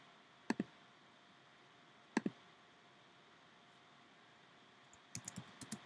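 Keys clicking on a computer keyboard while answers are typed in a fast French verb game: two quick pairs of sharp clicks spaced apart, then a faster burst of several keystrokes near the end, close and fairly quiet over faint room hiss.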